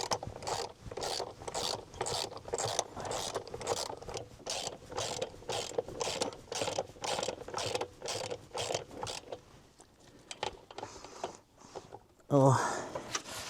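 A ratchet loosens a plug on a vehicle in freezing off-grid conditions, rapid rhythmic clicking strokes repeating for about nine seconds, close and moderately loud, followed by a brief clunk.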